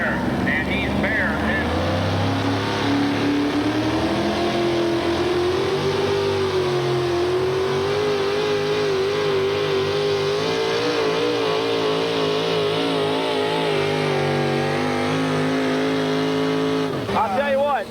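A 4WD pulling truck's engine revs hard and steady through a truck pull run in Bowling Green, a loud sustained roar that rises and falls in pitch with an announcer talking over it.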